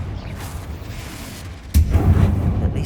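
A Confringo blasting spell explodes in a tomb in Hogwarts Legacy, a sudden loud boom partway through that rolls into a low rumble over quiet game ambience.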